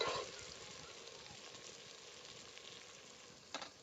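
Dal ingredients frying in a pan for vajri dal, a steady soft sizzle running throughout with a brief louder burst near the end.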